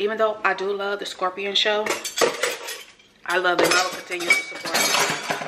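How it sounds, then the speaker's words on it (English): Dishes, pots and cutlery clatter and clink in a kitchen sink, loud and close, coming in rapid bursts with a short pause, while someone talks over the noise. "Sorry for the noise, y'all. I got dishes in the sink there."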